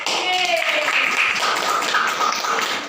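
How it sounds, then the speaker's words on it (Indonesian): Children in a classroom clap together on cue at the end of a lesson. Short, bright claps pop close by in a quick burst, with soft voices and room noise around them. "Berikan tepuk tangan."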